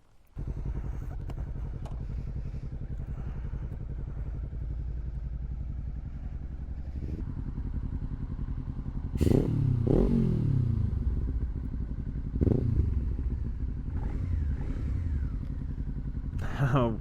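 A motorcycle engine idling steadily and close by, a rumbling low drone with occasional clanks and louder bursts; a voice speaks briefly over it.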